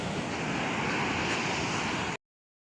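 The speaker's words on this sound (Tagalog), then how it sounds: "Malayo na ulit yung alon sa atin." Sea waves surge and wash steadily at the shore, a loud, continuous roar of surf with wind buffeting, cutting off abruptly near the end.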